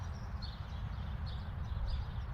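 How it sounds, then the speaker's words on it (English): Faint bird chirps repeat in short bursts over a steady low outdoor rumble, sounding distant. "Birds are loud today"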